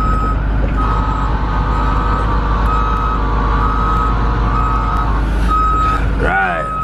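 A 2015 IC school bus backing up, its reversing alarm beeping in a steady repeating pattern over loud low engine idle, with a short squeal of air brakes at the end.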